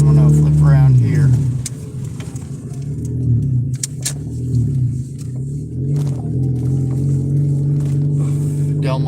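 A car engine rumbles steadily while driving, with an opening rev that falls away and then low, fluctuating engine drone. Voices talk over it throughout.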